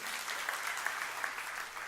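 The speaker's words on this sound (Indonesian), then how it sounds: "tepuk tangan yang meriah untuk kemuliaan Tuhan" A church congregation claps together, a dense, steady patter of many hands at moderate distance lasting a couple of seconds.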